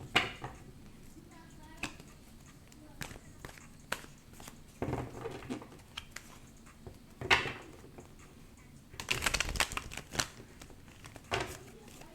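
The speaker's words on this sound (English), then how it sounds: "I just like to get a good shuffle in" Tarot cards are shuffled in irregular bursts of sharp riffling and tapping, with quiet gaps between, close by and soft, one longer flurry near the end.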